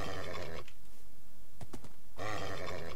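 A black horse in Minecraft neighs loudly at the start and again at the end, with a few faint clicks in the quiet stretch between the calls and no speech.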